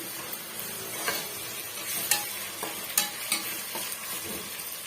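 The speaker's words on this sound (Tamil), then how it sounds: "நல்லா இது போல் வந்து வதக்கி விட்டுங்க" Ginger garlic paste sautés in hot oil for a wedding-style veg biryani, a close steady sizzle broken by repeated scraping stir strokes of a spoon against the pan, with no voices.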